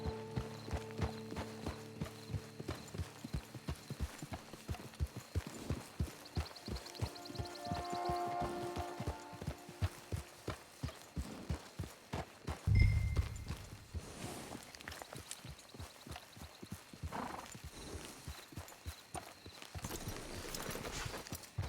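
Horse hooves clip-clopping in Red Dead Redemption 2, a steady rhythmic stream of hoofbeats at a trot or gallop with game ambience and a brief louder thump midway.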